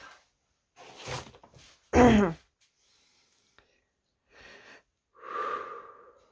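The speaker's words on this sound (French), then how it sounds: "Exercice de respiration pour limiter la toux." Slow, deliberate breaths in and out during a breathing exercise to limit coughing, separated by pauses of silence, with one sharp, loud inhale midway; close and quiet otherwise.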